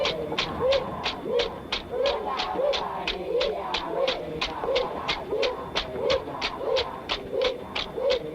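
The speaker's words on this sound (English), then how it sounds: "These are cockatoos." Cockatoos in the Australian Outback call in a steady, evenly spaced series of short hooting cries, repeating about twice a second at moderate level over a soft background hiss in a 1952 film soundtrack.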